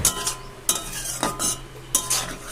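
A spoon stirs fish curry topped with chopped coriander in a pan, with several sharp scraping clinks against the metal at irregular intervals over a soft, low background and no voices.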